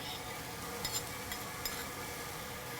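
Tomato paste and chili pepper paste being stirred into a sizzling filling for chicken flautas, a faint steady frying hiss with soft scraping strokes of the spoon.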